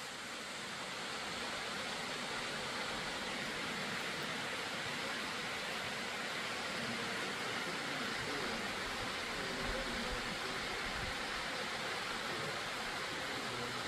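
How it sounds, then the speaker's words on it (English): At Adcock Gorge, water spilling from a waterfall into a swimming hole makes a soft, continuous wash of noise, steady and somewhat distant, with no one speaking. "Waterfall coming down up here."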